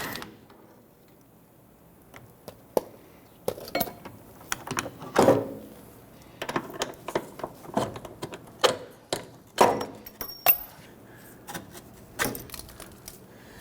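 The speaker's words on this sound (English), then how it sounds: "Now we're going to use a 17mm wrench on the nut side over here." A 17mm wrench works a rusted nut on a bolt at the rear trailing arm of a 1992-1996 Toyota Camry, giving sparse metallic clicks, taps and knocks in irregular bursts against a quiet garage background.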